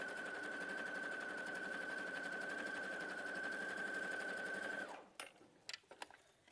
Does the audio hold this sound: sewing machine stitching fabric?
yes